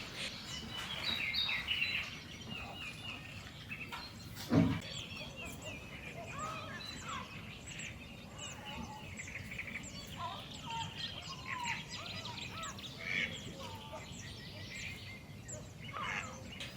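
Wetland waterbirds including mallards, great egrets and little egrets at the Aiguamolls de l'Empordà marshes, with a steady chorus of chirps and calls at moderate distance throughout and one brief louder knock partway through.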